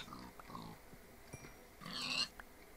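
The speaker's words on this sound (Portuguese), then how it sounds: "Tem que tomar cuidado pra não matar toda a população de porcos da região." Pigs oink and grunt in Minecraft, a quick run of short snuffling calls, fairly faint, ending with a higher squeal, over a soft background hum and no talking.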